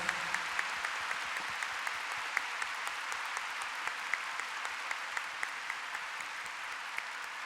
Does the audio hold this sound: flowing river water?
no